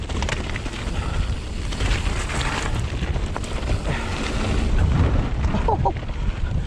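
Wind buffets the microphone in a steady roar while riding a gravelly track, swelling into a stronger gust partway through, with gravelly rolling noise underneath.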